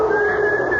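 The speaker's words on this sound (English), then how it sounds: "I looked around, but I was alone, and then I heard someone whistling" A steady, sustained whistled tone holding one pitch with a faint overtone, brief and fairly loud, with no voices.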